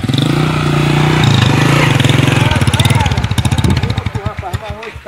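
A motorcycle engine idles and putters close by, its rough rhythmic pulsing growing uneven and choppy toward the end, under loud talk from people nearby.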